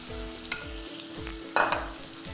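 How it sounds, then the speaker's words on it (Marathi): Boiled potato pieces are sautéed with turmeric and masala paste in a pan, with a steady sizzle under repeated scraping strokes of a spoon and a sharper stir near the end. "याला थोडंसं परतून घ्यायचं एक दोन ते तीन मिनिट"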